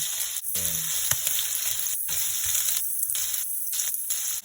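Onion and garlic fry in a pan with a steady, close sizzle that holds throughout, broken by a few brief stirring scrapes and short dips in the hiss.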